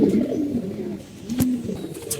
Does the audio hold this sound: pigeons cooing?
yes